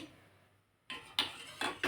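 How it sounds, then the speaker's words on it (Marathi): A pot of milk set on a gas stove gives a few sharp metallic clanks and scrapes after a near-silent start, close and fairly loud. "आता हे दूध इकडच्या शेगडीवर ठेवते म्हणजे गरम होण्यासाठी"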